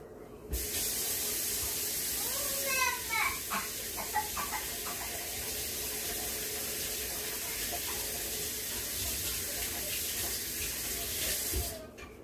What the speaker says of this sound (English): I'm going to wash my hands real fast